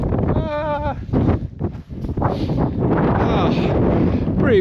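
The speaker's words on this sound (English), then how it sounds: "Pretty windy." Strong wind gusts buffet the microphone on a hike up a mountain pass, a loud, close rumbling roar that swells and dips, with someone talking briefly over it.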